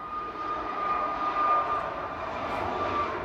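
Ryanair airliner jet engines roaring steadily at Manchester Airport, a continuous loud, broad rumble with a faint whine, sustained throughout without talk.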